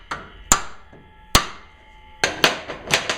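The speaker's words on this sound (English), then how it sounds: "Give it a little bit of a persuasion with a hammer." Sharp metallic hammer strikes on a ball joint of a 1998 GMC K1500, about eight blows, irregular at first then quicker, each ringing briefly, close and loud with no talking.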